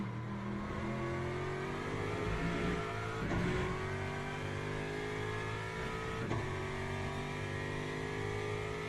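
A GT3 race car engine in the Le Mans Ultimate racing game drones steadily and loudly, its pitch climbing through the gears with brief dips at the shifts, with no talk.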